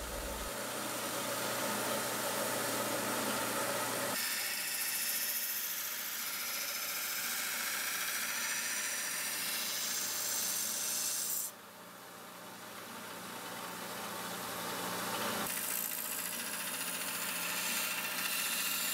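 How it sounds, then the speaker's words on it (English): A power grinder rasps steadily against leaf spring steel while shaping the bevels of a knife, a loud continuous grinding with brief changes in pressure and one short dip partway through. "then I went to trying to grind the bevels"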